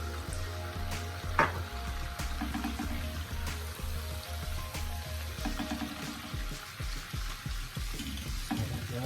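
Chili flakes sizzle and fry in melted butter in a pan while making honey butter fried chicken, a steady crackling hiss with small pops and a few sharp stirring clinks throughout, no talking.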